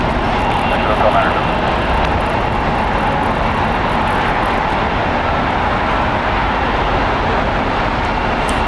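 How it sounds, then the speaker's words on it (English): An Asiana Airbus A380 taxis toward the Tom Bradley terminal gates at LAX after a long flight, its engines giving a steady, moderately loud whine and rumble beneath overlapping talk. "The Asiana A380 finally pulling into the Tom Bradley terminal gates"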